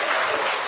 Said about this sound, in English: Round of applause for Jack